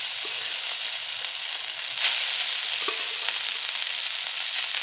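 Cooked rice being mixed into peanut powder in a pan for a Navaratri peanut rice dish gives a continuous close hiss of frying with occasional soft stirring scrapes, no voices.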